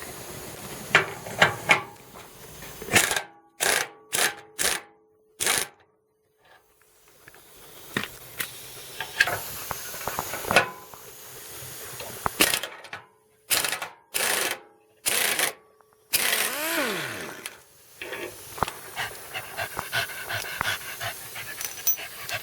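Air ratchet loosening bolts on a Mitsubishi Pajero bash plate, loud rapid bursts of pneumatic rattling repeated several times with short pauses between, close up, with hissing air and clanks in between.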